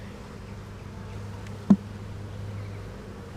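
A swarm of honeybees gives off a continuous low, droning hum, with one brief sharp knock partway through.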